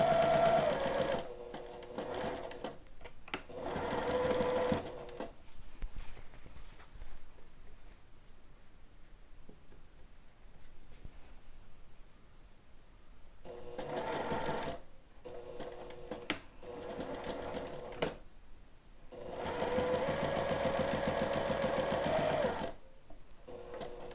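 Sewing machine back stitching a dress bodice seam, several short bursts of fast whirring stitching separated by quiet pauses, close and fairly loud, with softer handling noise between runs.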